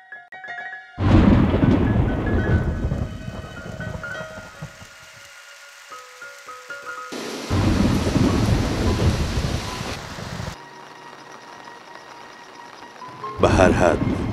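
Heavy rain with thunder in wild Kurdish countryside: loud waves of hissing downpour and rumbling thunder come in separate bursts with quieter gaps between them. A voice may be talking faintly.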